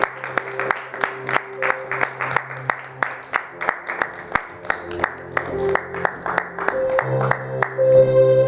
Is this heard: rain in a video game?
no